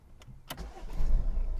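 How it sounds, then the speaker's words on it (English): A Ford car's engine cranks and catches with the clutch pedal held down, a short click and starter whirr rising into a low, close idle rumble. "put the clutch down first and switch on"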